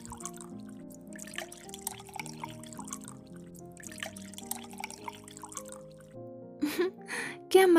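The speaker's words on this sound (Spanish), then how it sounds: "voy a servirles un vaso con agua" Water is poured into a drinking glass near the end, a brief, close splashing gurgle with a rising fill, preceded by soft background music.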